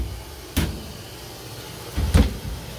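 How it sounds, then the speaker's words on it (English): A household clothes dryer door is pushed shut, giving two dull thumps about a second and a half apart, close by with no talk. "Shut the door."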